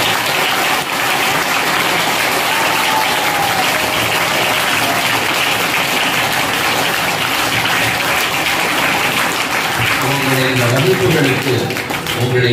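An audience at a Hindu cultural class gathering at a Selvi Amman temple in Tirunelveli applauds loudly and continuously for over twelve seconds, with a voice emerging near the end.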